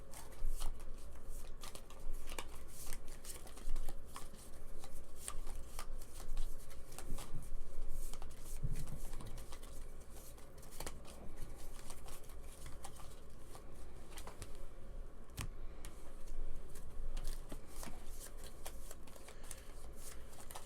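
Playing cards shuffled over and over for a Pandemic Legacy Season 2 board game session, a steady riffling patter with soft taps running throughout at close range, mostly without talk.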